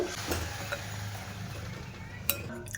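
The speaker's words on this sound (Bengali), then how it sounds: "হাফ বাটি মতো জল দিয়ে দিলাম ভালো করে মিশিয়ে নেব" Water stirred into a thick palm fruit and gram flour batter for a traditional Bengali sweet, heard as soft spoon scraping against a bowl with a couple of sharp metallic clinks.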